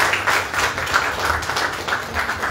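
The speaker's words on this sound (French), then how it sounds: "Merci de bien vouloir l'applaudir." Audience applause for a project presenter at a public event, a steady dense wash of many hands clapping, loud and continuous throughout with no voices over it.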